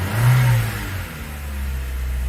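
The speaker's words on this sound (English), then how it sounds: "So I can rev it." A 2013 Chevy Sonic engine, one that had been stuck below 1,000 RPM, revs up in a loud surge and then settles into a steady, smooth idle, close by with no talking.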